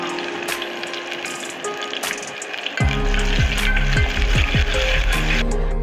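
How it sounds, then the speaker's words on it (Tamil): Mustard seeds and small shallots hit hot sesame oil and begin frying, a sudden loud sizzle with popping crackles that continues steadily to the end. "கடுகு, சின்னதாக நறுக்கி வச்சுருந்த சின்ன வெங்காயம் நல்லா சிவப்பாக வர வரைக்கும் வதக்கி விட்டுருங்க"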